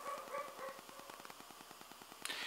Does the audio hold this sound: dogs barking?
yes